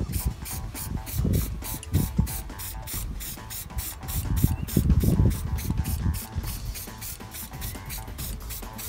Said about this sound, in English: So yeah, let's get spraying.